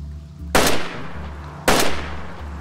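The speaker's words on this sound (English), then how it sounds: "So I shot him with the nice Mosin" Mosin rifle fired in DayZ, two loud sharp cracks about a second apart, each trailing off in a rolling echo over low steady background hum.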